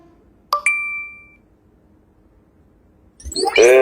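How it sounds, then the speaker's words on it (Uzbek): Message notification ding on a phone, two quick bright chimes ringing out clearly in a quiet room, followed a few seconds later by a voice starting to speak. "Sizga xabar keldi."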